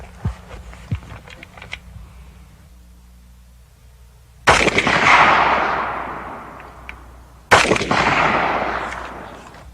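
Two loud, close gunshots from a Valmet rifle, a civilian AK-47 variant firing 7.62x39 Russian rounds, spaced about three seconds apart. Each blast rings out in a long echoing decay, after a few faint clicks.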